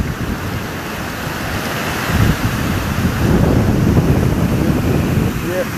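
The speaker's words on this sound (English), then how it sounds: "there's a lot of power to the swell" Powerful ocean swell during a storm at dusk, surf roaring steadily and swelling louder midway, with wind buffeting the microphone throughout.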